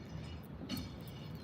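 A train passes near a riverside walking path, a steady rumbling roll with faint rail noise, heard alone at moderate distance.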